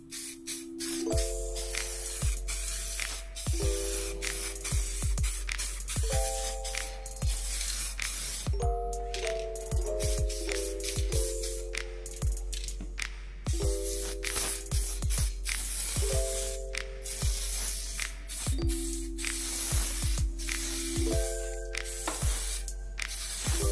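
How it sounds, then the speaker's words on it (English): Repeated short hissing bursts of spray paint are applied to a bicycle indoors, each a quick broadband puff, heard over steady background music. "we'll spray another coat"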